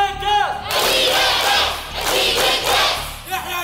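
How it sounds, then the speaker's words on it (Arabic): A university quiz show audience, students from Helwan and Cairo universities, erupts into loud cheering and shouting in swelling waves with thuds and scattered claps, filling the hall after a brief voice at the start. "الجمهور لازم يهدى، لأن تحت الضغط فقرة صعبة جدا محتاجة تركيز مش محتاجة التشجيع ده"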